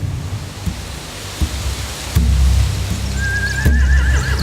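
A horse whinnies with a rising, wavering neigh amid a noisy outdoor ambience in the video game The Walking Dead: The Final Season, with heavy low thuds and rumbling around it and no talk.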